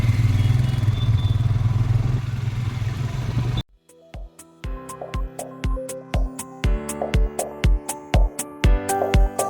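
A motorcycle on a main road runs with a steady, loud engine drone and road noise, then cuts off, and a rhythmic series of sharp mechanical clicks and knocks follows.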